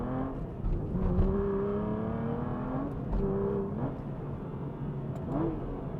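A 510 hp Aston Martin V12 Vantage with a manual gearbox revs hard and steadily, its engine note rising and falling through several climbs with clear shift breaks, loud and continuous throughout.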